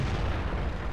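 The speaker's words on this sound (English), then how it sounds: "took a shot, missed." A tank cannon firing in World of Tanks, a single heavy booming blast that rolls on with a dense low rumble through the short moment, loud and close with no talk.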